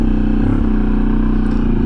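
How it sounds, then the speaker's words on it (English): An adventure motorcycle fitted with an EXAN X-Cape full exhaust, a deep, throaty, evenly pulsing engine note held loud and close for a brief stretch. "here there'll be a lot of stops and starts where you can hear the exhaust better"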